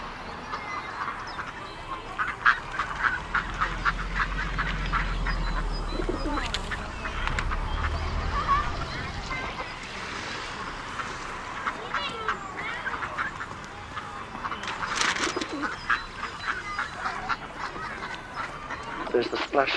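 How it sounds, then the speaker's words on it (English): Ducks quack and pigeons coo around a pond, calls scattered and overlapping at moderate distance, with occasional splashes and a voice talking underneath. "with the ducks and the other pond birds, with all the quacking and the splashing that goes on all the time"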